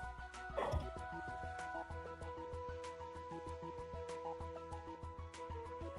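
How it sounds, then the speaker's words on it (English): Several dogs bark a few times in the background, one burst louder near the start, beneath steady, tonal video game music from a Toram Online play session. "And my dogs are barking."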